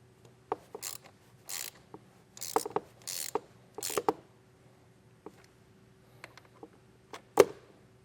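A ratchet tightens a ring terminal onto a car battery's positive terminal during trailer wiring harness installation on a 2024 Volkswagen, giving short bursts of rapid clicking separated by pauses, close and clear, ending with a sharp metallic snap.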